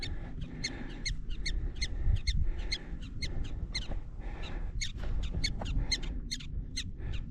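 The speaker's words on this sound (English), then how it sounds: "There's a prairie dog. They're chirping everywhere." Prairie dogs in a prairie dog town at Wind Cave National Park, South Dakota, give sharp, high chirps over and over from several directions, some near and some farther off, against a steady low rumble.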